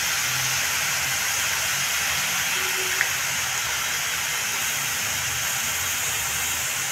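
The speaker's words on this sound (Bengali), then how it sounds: "গ্রেট করা আমলকিগুলো দিয়ে একটু ভেজে নিচ্ছি।" Grated amla (Indian gooseberry) frying in a pan gives off a steady, even sizzling hiss that carries on without a break, close and fairly loud.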